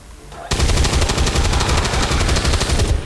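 A soldier fires a weapon in the video game XCOM 2, a loud, rapid automatic burst that starts abruptly and rattles on for about two and a half seconds, close and dominant.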